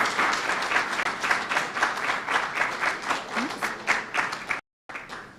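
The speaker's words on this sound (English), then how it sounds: "please join me in giving all of our participants another round of applause" An audience at an evening public speaking competition applauds the student participants, a rhythmic swell of many hands clapping in pulses for about four and a half seconds before a brief dropout and a short resumption.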